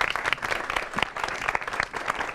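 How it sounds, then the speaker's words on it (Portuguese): An audience bursts into steady, dense applause for a guest named Julie during a political discussion show, the clapping sustained and fairly loud throughout with no talk over it. "uma salva de palmas para a Julie"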